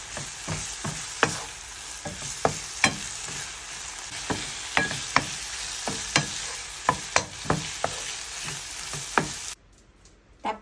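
A spatula scrapes and stirs ground pork, bell pepper and sauce in a pan over medium heat, with repeated sharp scraping hits over a steady frying sizzle, close and fairly loud, ending abruptly in near silence.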